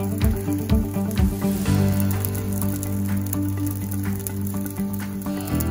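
Green onion pancake frying in oil in a pan after being flipped, giving a steady close sizzle and crackle with a low background hum and no talk.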